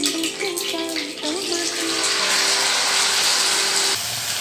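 Sago pearls tipped into two spoons of hot ghee send up a loud, steady broadband sizzle that swells and holds after a brief voice at the start.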